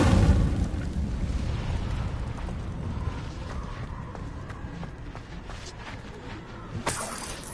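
An Incendiary fire spell in Hogwarts Legacy, played on PS5 and cast at crumbling rocks, opens with a loud, broad blast that fades into a long crackling, rumbling tail, followed late by a brighter burst.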